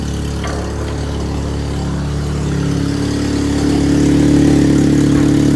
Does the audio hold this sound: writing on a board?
no